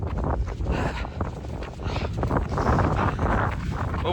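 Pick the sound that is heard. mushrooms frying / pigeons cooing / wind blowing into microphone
wind blowing into microphone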